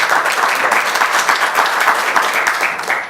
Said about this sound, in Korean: 여러분들 같이 한번 박수 한번 축하드립니다.